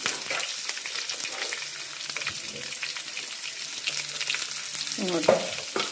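Onion sizzles in hot oil with mustard seeds, cumin and curry leaves while beans palya is cooked, with a steady frying hiss and occasional scraping stirs near the pan.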